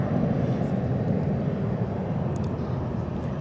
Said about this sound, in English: So EasyJet inbound from Milan as previously announced.